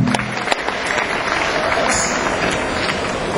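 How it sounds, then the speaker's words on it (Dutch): Applause from a concert audience fills the room, a dense steady patter of many hands clapping that lasts a few seconds, with a faint cheer rising from the crowd. "Ik maak bij voorbaat een applaus voor onze nieuwe aanwinst, Maxime van Wijn."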